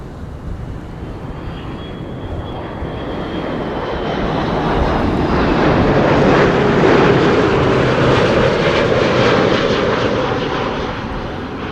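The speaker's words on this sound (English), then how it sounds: "here is KLM flight 696 arriving from Toronto. That's an A330-300." A KLM Airbus A330-300 on arrival at Amsterdam Schiphol in windy weather, its jet engine roar swelling as it approaches and passes overhead, then easing slightly, loud and continuous with no talk.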